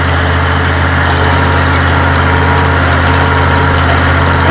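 Tractor engine running steadily while cultivating a field along crop rows, a loud, close, continuous low diesel rumble with no talk.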